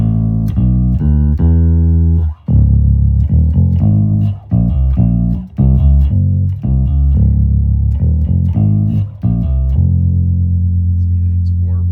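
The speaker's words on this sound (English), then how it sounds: "See, it's a warble there." Bass played through a pitch shifter pedal, one of an Electro-Harmonix Pitch Fork, Digitech Drop or Mooer Pitch Box, gives sustained low notes with a wavering warble, loud and steady with short breaks between phrases.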